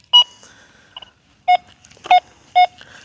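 An XP Deus II metal detector sounds over a buried 1903 Indian Head penny test target, giving four short, clean electronic beeps spaced about half a second apart, each sounding alone against near silence.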